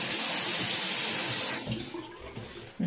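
Water from a tap gushing steadily into a sink while a face is wetted for shaving, loud and close, then cutting off into softer splashing and dripping.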